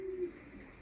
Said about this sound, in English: So here's another cracking young bird, just being weaned here at Pioneer Pigeons.